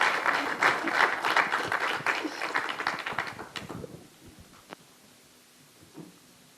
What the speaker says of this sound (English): can we give a round of applause as our panelists take their seats?